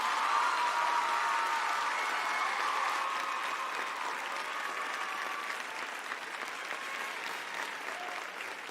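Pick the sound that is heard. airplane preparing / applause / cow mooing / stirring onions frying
applause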